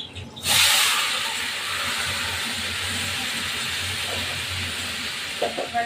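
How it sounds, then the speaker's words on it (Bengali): Raw meat dropped into a hot wok of oil with ginger and garlic, erupting in a sudden loud hiss that settles into steady close sizzling. "এবার মাংসগুলো ছেড়ে দেবো"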